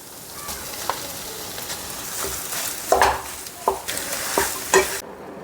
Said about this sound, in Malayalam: ഇനി ഇത് നല്ലപോലെ നമുക്കത് മിക്സ് ചെയ്തെടുക്കാം